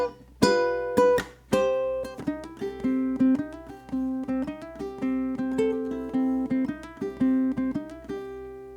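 Ukulele played in a blues shuffle rhythm with swung eighths and triplets, plucked notes and chords ringing close and clear in a loping, bouncing groove, no talking.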